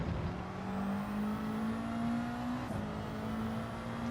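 A Mitsubishi Evo race car in Gran Turismo 7, its engine a steady, close, whining drone whose pitch climbs slowly under load, with no talk.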